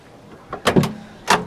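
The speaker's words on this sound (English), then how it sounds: "Open up those doors." Rear doors of a Toyota Prado 70 four-door being opened, a few short mechanical clunks and latch sounds in quick succession, then one more clack a moment later, close and fairly loud with no talking.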